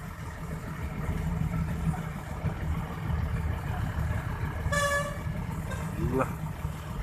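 At a crowded temple merit festival, vehicle brakes give a loud, shrill harmonic squeal midway, then a second rising squeal, over steady traffic and engine rumble.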